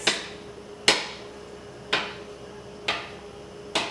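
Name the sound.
knife chopping pretzel dough into bite-size pieces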